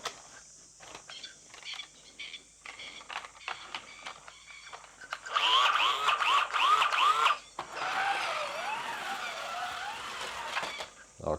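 Ninco slot cars, a Subaru WRX and a Mercedes CLK DTM, racing on a track, with whining electric motors rising and falling as the cars pass close by, plus clicks and handling noises between runs.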